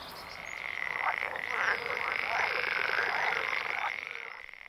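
Small green frogs croak at a pond in May, a dense, continuous chorus of overlapping rattling calls that swells and fades, fairly close, with no voices.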